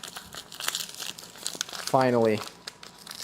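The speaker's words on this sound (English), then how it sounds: "new sugar being opened now" A new bag of sugar is torn open up close, with continuous crinkly plastic rustling and tearing. A voice briefly speaks over it partway through.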